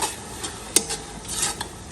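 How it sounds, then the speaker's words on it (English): A spoon stirs tomato puree, ginger, garlic and hot pepper in a pot for a West African garden egg stew, with a soft sizzle underneath and a sharp clink against the pot. "Mix everything in."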